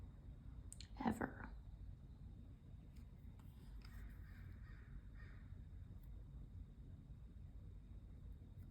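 A crow caws twice, faint and distant, against a quiet indoor hiss with soft background noise.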